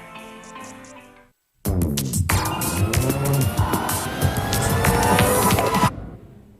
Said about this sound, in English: Workers start up the ignition and run the van through a series of tests.